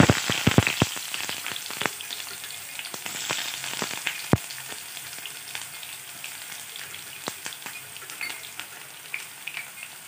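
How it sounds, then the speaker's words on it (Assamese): Onions hit hot oil in a wok (kadai) with a burst of loud crackling pops, settling into a steady close sizzle with scattered sharp spits over ten seconds. "এয়া কেৰাহীত তেল গৰম হ'ল। এতিয়া মই ইয়াত দিম পিঁয়াজখিনি।"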